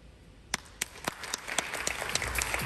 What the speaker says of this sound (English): Round of applause for number 66, Faith.